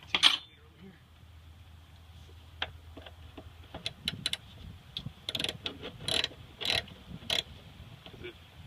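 Ratchet wrench turning a 10 mm nut while removing glow plugs on a 1985 Mercedes 300D, clusters of quick close clicking bursts that grow busier toward the end, with a steady low hum underneath.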